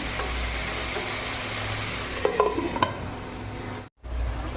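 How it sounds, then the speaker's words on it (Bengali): Young jackfruit frying in a pan for a spiced curry, a steady close sizzle and stir with a few utensil clinks, then a brief dropout before the frying noise returns. "দেখো এঁচোড়টা অনেকটা ভাজা ভাজা হয়ে এসছে"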